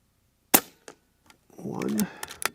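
Air Arms S510XS Ultimate Sporter .25 air rifle firing pellets, one sharp crack followed by fainter clicks and handling noise.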